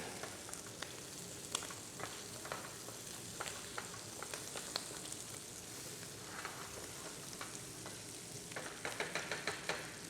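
Cuttlefish sizzles in a paella pan, a continuous crackling fry with scattered sharper pops and spatters, fairly quiet but close, growing busier toward the end, with no talking.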